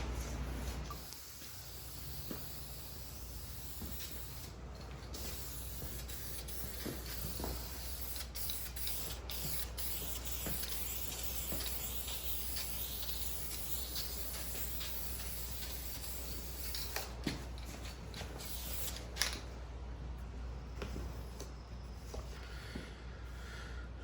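Aerosol spray paint applied in light coats to a 1969 Mustang dashboard, refinishing it from blue to black; a steady, close hiss runs almost unbroken with brief pauses between passes, no voices.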